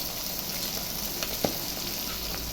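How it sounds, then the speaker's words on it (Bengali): Continuous, even sizzle of onions and rohu fish frying in oil, close by, with a faint tap or two and no voices. "এখন পেঁয়াজা আর মাছের দুটা ভেজে নিচ্ছি।"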